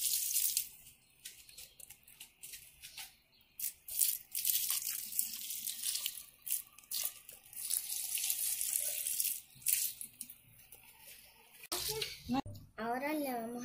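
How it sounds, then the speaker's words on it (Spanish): Water splashes and pours in uneven bursts close by as garden plants are watered, with a voice chattering over it. "Ahora vamos a echarle agua a las plantitas."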